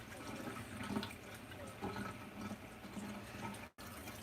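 Tap water running steadily into a sink while a makeup brush is rinsed under the stream, a continuous close splashing wash with small shifts in flow.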